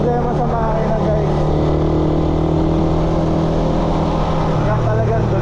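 A Suzuki Raider 150 motorcycle engine drones loudly and continuously while riding on a long trip, with steady wind and road rush and someone talking over it.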